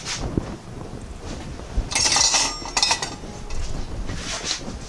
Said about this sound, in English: we're gonna put 2 squash in each pan.